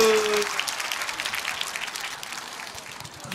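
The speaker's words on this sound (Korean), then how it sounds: "아멘 박수" Congregation applause fills a large church service, a dense steady clapping from a big crowd that holds for several seconds, with a brief tonal sound at the very start.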